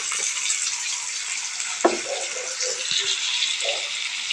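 Bitter gourd (ampalaya) hits hot oil in a pan and sizzles steadily, with a loud hiss throughout, a sharp clatter near the middle and a few soft knocks of stirring.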